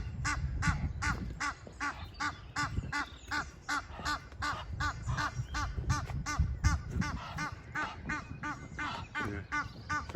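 Duck chicks on a river calling in rapid, continuous high peeping chirps, close and busy, with no talk.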